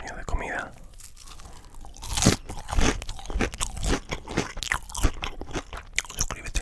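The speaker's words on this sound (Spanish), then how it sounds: "Si te gustan los sonidos de comida." Mozzarella corn dogs, cheese and sausage on sticks, are bitten and chewed up close with crisp, repeated crunches and wet chewing in irregular bursts.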